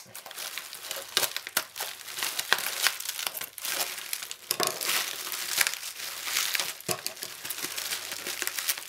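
Bubble wrap packaging around a Sega Nomad crinkles and crackles as it is cut open, irregular close plastic rustling and snapping with occasional sharper pops.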